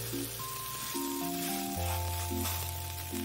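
Onion slices frying in a pan, a steady bright sizzle throughout under soft background music, with no talking.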